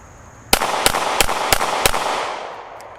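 Five sharp, loud Smith & Wesson M&P Shield X pistol shots fired in quick succession at a range, each crack ringing out and leaving a decaying echo.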